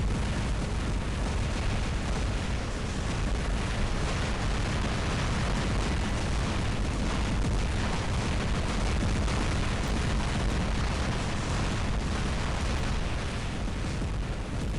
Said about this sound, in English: I'm going to see if I can fire my Orkans on him